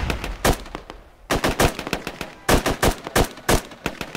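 Rapid bursts of rifle and machine-gun fire in the military shooter game Squad, loud and close, coming in clustered volleys separated by brief pauses, with no talking over it.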